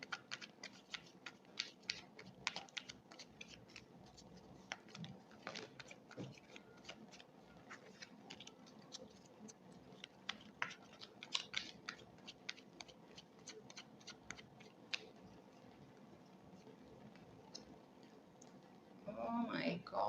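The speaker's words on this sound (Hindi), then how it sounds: "तो मैं अभी I am just gonna separate the cards for you." Tarot cards are shuffled and dealt out, with soft papery flicks and taps running steadily through the passage while someone talks over them.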